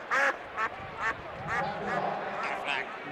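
The Aflac duck quacks during a college football broadcast of Pittsburgh versus Miami, several short nasal quacks in quick succession over crowd and background noise, with a voice talking.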